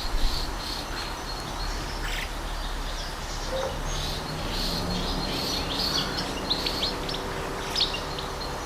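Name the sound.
small birds chirping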